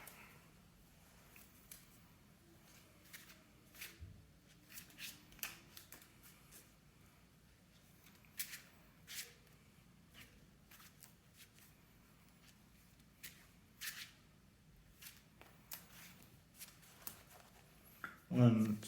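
Cards for the DC Deck Building Game are shuffled on a table in soft, scattered bursts of riffling and sliding, with quiet gaps between handfuls and a louder rustle near the end.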